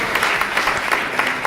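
A brief, dense patter of applause from a gathering at a football club's season presentation, steady and close throughout.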